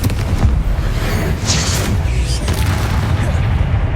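A Confringo fire spell explodes during Hogwarts Legacy gameplay, a loud booming blast with a rumbling burst that fills the whole moment, followed by crackling debris and a dense low roar throughout.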